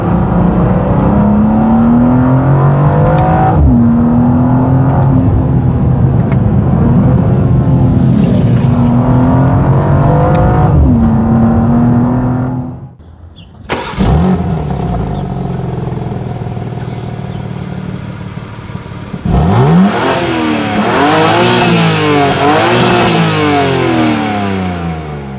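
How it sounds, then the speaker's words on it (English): A 2025 BMW M2 facelift engine revs hard through repeated upshifts, rising pitch sweeps broken by brief drops at each shift, with a couple of short gaps and louder close acceleration later, no talking. "when you upshift, there is a bit of pop coming from the back"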